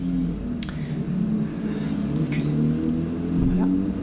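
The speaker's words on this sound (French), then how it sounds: "la moto passe." A motorcycle passing on a road, a steady mid-pitched engine rumble that swells gradually and fades slightly across four seconds, heard from moderate distance with someone speaking over it.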